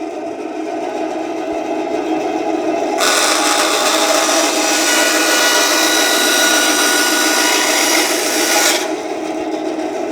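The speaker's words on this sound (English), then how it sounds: "You can see the bandsaw is now spinning round." Bandsaw in an orthotics lab running steadily, a continuous close whirring hum that rises into a brighter, louder rasping whine partway through as it cuts, then drops back to the plain running drone near the end.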